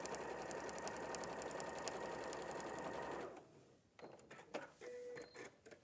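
A domestic sewing machine stitches at a fast, steady rattle for about three seconds, then stops, leaving faint clicks and small handling noises from the machine.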